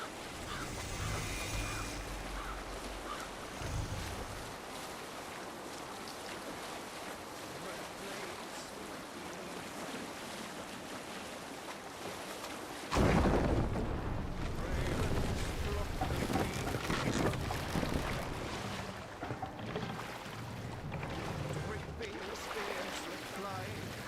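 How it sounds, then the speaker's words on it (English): Wind rushes over open sea as a Viking longship sails through waves in Assassin's Creed Valhalla, a steady broad wash of wind and water that swells louder partway through, with voices heard along the way. "Good sailing wind here, Eivor."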